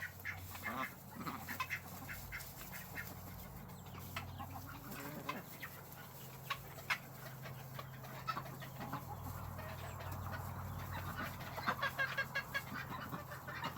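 Backyard ducks and chickens quack and cluck in a busy, overlapping chorus, with frequent short calls from several birds at close to moderate distance and no talking.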